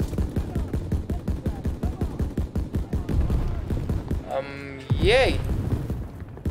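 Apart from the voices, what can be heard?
gunfire in the video game Call of Duty WW2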